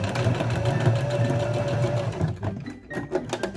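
A sewing machine runs steadily, stitching back and forth along the edge of a homemade face mask with a nose wire, a close, even mechanical whir that cuts off after about two seconds, leaving quieter handling noises.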